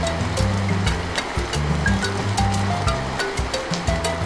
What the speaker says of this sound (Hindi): जल्दी पानी ऑन करते हैं।